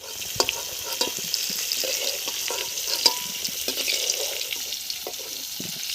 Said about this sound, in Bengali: এলাচ লবঙ্গ দারচিনি গোলমরিচ ফোড়নে দিলাম আর পেঁয়াজ দিলাম